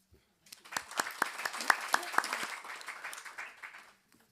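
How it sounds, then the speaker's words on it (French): An audience at a literary prize ceremony bursts into applause, clapping building quickly to a dense peak before fading out over a few seconds, with a few voices mixed in. "On vous applaudit."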